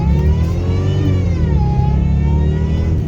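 A supercharged V8 in a rear-wheel-drive Jaguar S-Type R revs loudly up close, its throaty note rising and falling through one strong rev. No talk is heard.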